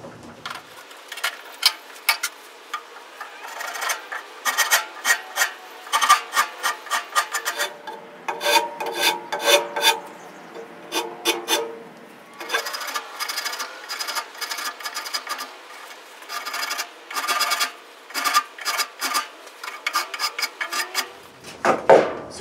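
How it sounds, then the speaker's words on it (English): A rasp and a spokeshave shaping the wooden neck of a cigar box guitar, giving repeated rhythmic scraping strokes, close and fairly loud, with a brief pause partway through. "And then now I'm using this spoke shave, and I'm going to start taking off that"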